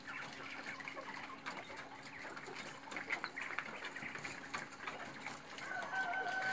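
Poultry clucking fills a noisy barn housing quail and Texas quail, and a rooster crows toward the end, rising over the steady background din.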